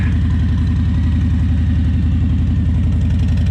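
A motorcycle engine idles steadily and loudly nearby right after being unloaded from a pickup truck, its low, even pulsing rhythm continuous throughout with no voices.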